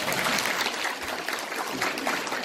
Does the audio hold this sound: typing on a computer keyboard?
no